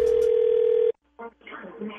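Telephone for a prank call: a loud steady dial tone, then a brief pause and short tones as the line connects, with a voice beginning at the end.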